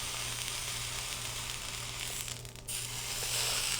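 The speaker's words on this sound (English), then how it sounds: "I'm just searing the sides, just to get some color" Sesame-crusted tuna sears in a hot pan, giving a steady, close, loud sizzle with crackling spatter throughout and a brief dip near the end.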